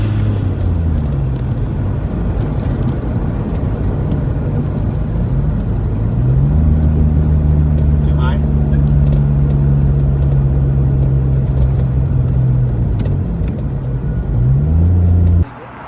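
A tuned Mitsubishi VR4 running on E85 pulls hard in third gear, its loud engine drone climbing in pitch and then holding steady under heavy road rumble, close and continuous with no talking.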